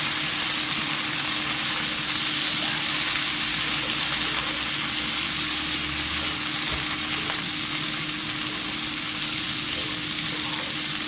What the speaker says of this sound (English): Here are our potatoes. Getting nice and crispy.